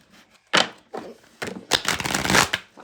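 Tarot cards shuffled by hand in a few quick riffling bursts, close and crisp, with short pauses between handfuls.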